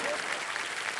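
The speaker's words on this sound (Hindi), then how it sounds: "अब ताली मारो।" A brief, dense patter of clapping from a studio audience on a talk show, steady and moderately loud for about a second.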